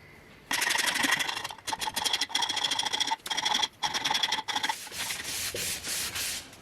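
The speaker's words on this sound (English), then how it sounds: "while sanding this handle" Steady rhythmic sanding strokes rasp against a wooden body hammer handle, close and fairly loud, with brief pauses between bursts of rubbing.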